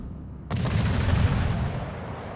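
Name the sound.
naval gunfire in a warship video game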